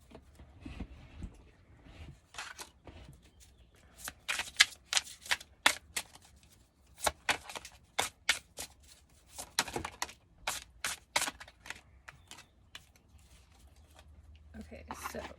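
Tarot cards being shuffled by hand in close, crisp riffling bursts that repeat in a steady rhythm over a quiet background, with no talking.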